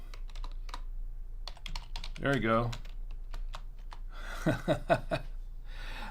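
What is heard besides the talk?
typing on a computer keyboard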